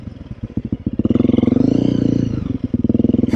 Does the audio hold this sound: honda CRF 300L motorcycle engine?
yes